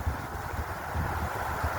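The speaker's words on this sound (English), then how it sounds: "Oh wow, it's getting windy." Steady outdoor wind buffeting the microphone with low rumbling gusts on a cold day, continuous and fairly loud throughout with no voices.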